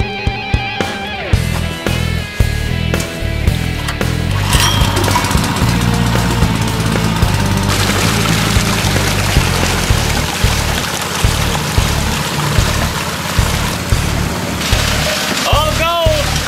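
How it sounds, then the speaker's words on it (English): A gold mining classifier machine runs continuously, processing limonite ore with a loud steady mechanical rumble, rhythmic clunking and a wash of rushing water and rattling material throughout. "we're going to use the machine to classify this material out"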